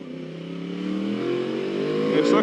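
A Yamaha R1 sport motorcycle engine revs up steadily, its pitch climbing as it accelerates, loud and close throughout.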